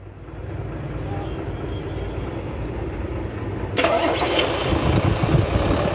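A Hino J08C diesel truck engine cranks and catches, then runs with a loud, rough clatter up close after a steady low rumble.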